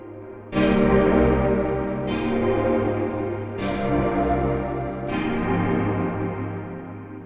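A sustained synth tone from a Kyle Beats Sandbox plugin swelling through a long, stretched reverb, with four bright attacks that each bloom into a washy, smeared tail.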